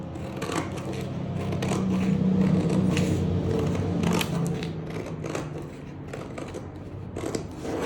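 Scissors cutting striped shirt fabric along the lower edge during garment sewing, a steady close crisp snipping and rustle over a constant low background hum.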